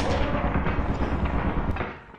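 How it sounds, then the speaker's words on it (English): Landmine blast in the game Lethal Company, a loud, close, rumbling explosion that bursts at once and decays over about two seconds. "He stepped on a landmine!"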